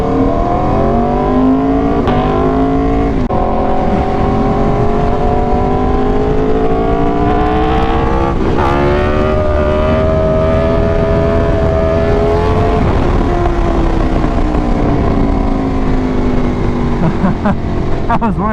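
An Aprilia sport motorcycle ridden on a bumpy, cracked, twisty road. The engine drones steadily and loudly, its pitch rising and falling with throttle changes, and wind roars over it throughout.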